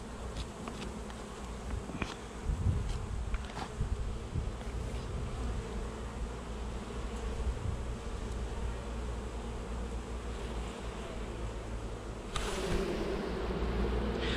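A steady, dense hum of many honeybees buzzing close by at a hive with drone brood, continuous and loud throughout with a slight swell near the end.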